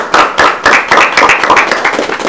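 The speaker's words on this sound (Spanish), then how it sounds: "Un aplauso." Applause at a signing ceremony for a family business protocol at Centro Médico San Rafael: dense, steady clapping from a gathered audience, continuous and fairly loud throughout.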